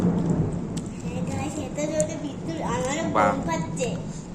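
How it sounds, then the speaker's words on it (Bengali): Thunder rolls low and heavy through a steady rainstorm, with rain pattering throughout while voices, including a child's, talk over it. "মেঘ ডাকলো"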